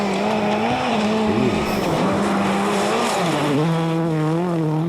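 Peugeot rally car racing at WRC Rally Finland 2000, a high-revving engine howling close by with rising and falling pitch through gear changes and brief tire scrabble, no voices.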